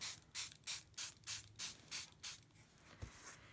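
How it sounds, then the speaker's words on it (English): A hand mister sprays watercolor paper in about eight quick, evenly spaced hissing bursts at close range, then stops. "I'm going to take my mister and I'm going to spray"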